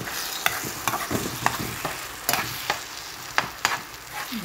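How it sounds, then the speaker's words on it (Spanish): Mexican-style eggs in a frying pan, stirred with sharp intermittent scrapes of a utensil against the pan over a soft continuous sizzle, close up and without talk. "aquí le vamos a estar moviendo para que no se nos pegue ni se nos queme"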